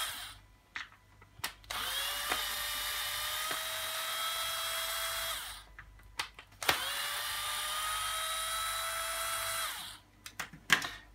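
Power screwdriver whirring in two long steady bursts while unscrewing a plate on the front wheel of an UPPAbaby Cruz stroller, with short clicks and handling noises between and around the runs.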